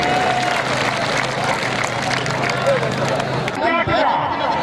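A crowd at a kabaddi match in Jhang, Punjab, applauds loudly and steadily, a dense wash of clapping with cheering and babble mixed in, fading slightly near the end.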